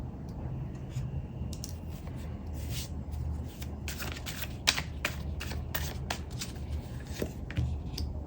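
Tarot cards being shuffled by hand, a steady papery riffling and flicking that runs throughout with scattered sharper snaps, fairly close and moderately quiet over a low background hum.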